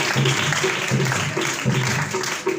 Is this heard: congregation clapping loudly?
yes